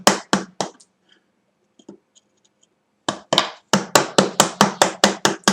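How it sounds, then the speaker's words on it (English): Wood chisel blows cutting material while building a saw till and sofa table: a burst of sharp strikes, a near-silent pause, then a steady run of evenly spaced hard knocks, close and loud. "So I'm just getting close with the chisel because the chisel's going to be able to take out a lot more material"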